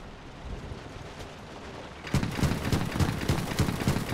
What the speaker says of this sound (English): We just took a rifle grenade or something.